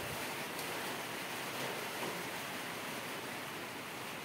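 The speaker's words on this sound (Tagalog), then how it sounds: "Ayun, lakas ng ulan no." Heavy rain pouring steadily on a New Year's Eve, a dense, even hiss of downpour filling the whole clip with no let-up and no talk.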